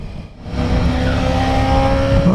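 Motorcycles, including a KTM, pass on a Colorado mountain road, a loud, close engine roar with a rising whine that swells quickly and holds.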